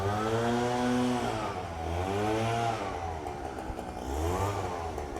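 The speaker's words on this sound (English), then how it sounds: "Let's go run the Husqvarna." Husqvarna chainsaw engine revving loudly and up close, its pitch rising and falling in repeated throttle bursts over about five seconds, with no talk.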